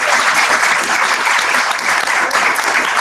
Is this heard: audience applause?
yes